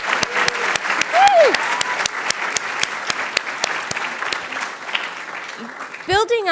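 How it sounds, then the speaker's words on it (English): An audience at a startup demo day event applauds the VCP teams with steady, dense clapping that fades near the end. A brief voice and a sharp squeal cut in at the close. "one more round of applause for the VCP teams"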